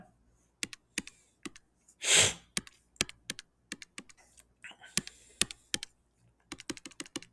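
Calculator keys tapped one at a time during a maths working session, giving sharp, close, irregular clicks with short pauses and one brief breathy rush partway through, no talking.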